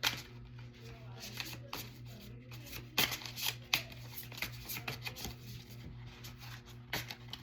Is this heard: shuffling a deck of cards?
yes